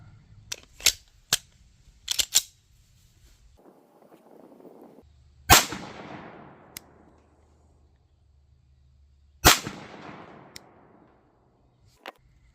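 A 9mm pistol with a red dot sight fires at a target outdoors while the sight is being zeroed, giving two sharp, loud gunshots several seconds apart, each with a trailing echo, among lighter clicks and handling noises.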